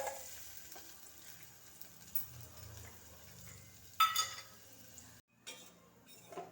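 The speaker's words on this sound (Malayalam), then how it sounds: "ആദ്യമേ മുന്തിരിങ്ങ ഒന്ന് വറുത്തെടുക്കാം." Raisins frying in ghee in a pan, a faint crackling sizzle with stirring scrapes and a few metallic clinks from a spoon against the pan.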